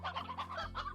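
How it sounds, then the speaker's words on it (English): Hens cluck in the video game Slime Rancher, a soft, quiet run of short rhythmic clucks over a steady low game hum, with no talk. "So give me 2 hens, please."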